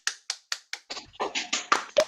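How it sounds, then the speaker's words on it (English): A few people clap for a performer on a virtual comedy show, sharp distinct claps at first, then overlapping uneven claps from several sources, close and dry. "Clap for Carla."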